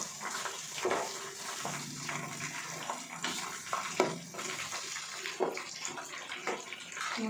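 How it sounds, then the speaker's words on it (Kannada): A pot of curry simmers on a stove with moderate bubbling, irregular pops and gurgles rising and falling close by, with no voices. "ಕುದಿತಾ ಇದೆ"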